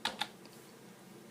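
Computer keyboard typing on a Windows 10 PC: two quick key clicks near the start, a pause, then one more sharp click at the end, close and crisp with no speech.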